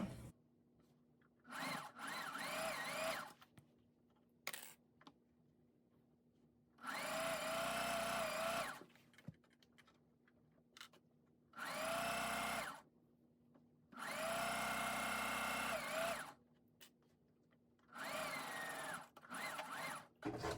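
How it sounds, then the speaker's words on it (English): A sewing machine stitches slowly through many layers of curtain fabric, running in about six separate bursts of whirring motor and needle noise with quiet pauses between them, close and clear with no talking. "the first stitch on this is gonna be through many layers of fabric, so I'm just gonna go slowly. And I'm gonna back stitch."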